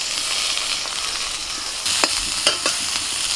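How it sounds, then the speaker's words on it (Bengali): Eggplant slices frying in hot oil give off a steady, loud, close sizzle, broken by a few sharp clicks of a utensil moving them around the pan, with no talking. "এবার একে একে বেগুনগুলোকে ভেজে নেব"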